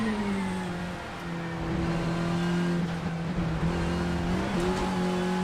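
Race car in Assetto Corsa at Spa: a steady, loud engine drone at high revs held through a straight, pitch rising slightly with minor shifts, continuous and close throughout.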